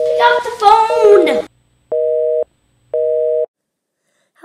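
A telephone rings out with nobody answering: after a brief burst of raised voices, two evenly spaced, loud steady tones sound on their own, separated by silence.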